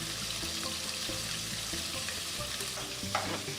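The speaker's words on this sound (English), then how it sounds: "Flip the prawns to allow for even cooking." Prawns frying in batches in a pan for spicy prawns in chilli paste, with a continuous dense sizzle and a low background hum, close and steady with a faint clatter near the end.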